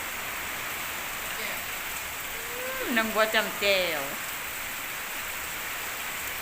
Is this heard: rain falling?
yes